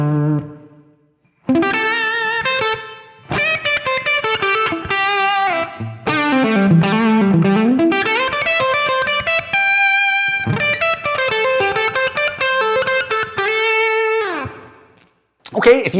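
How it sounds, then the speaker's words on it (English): An electric guitar played through a Line 6 POD GO with reverb added rings out in clean, sustained notes and chords, played alone with short pauses between phrases. "Let's bring in the reverb and let's hear what that does to the tone."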